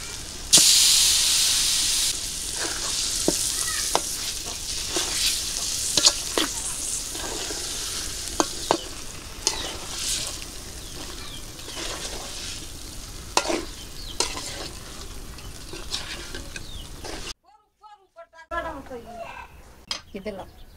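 Beef pieces fry and sizzle with cooked-down spice masala in a pot for a village-style beef curry, a steady loud hiss broken by frequent scraping stirs, then a brief silence and a few softer clinks near the end.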